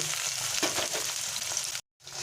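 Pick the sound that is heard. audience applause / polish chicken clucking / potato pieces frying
potato pieces frying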